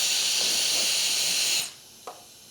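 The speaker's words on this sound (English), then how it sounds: "So you can literally use this like an air compressor." A Wolfbox HyperFlow 60D tire inflator blows a strong, loud hiss of air like a compressor for about a second and a half, then cuts off abruptly, leaving a short click.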